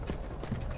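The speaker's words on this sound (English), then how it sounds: "Sir! Your horse is too" Horse hooves clip-clopping in the video game Skyrim, a loud, close, steady patter of hoofbeats filling the short stretch.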